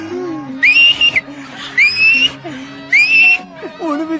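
A pressure cooker cooking rice lets out three shrill rising whistles in a row, each about half a second long, loud and close, with voices and other household sounds between them.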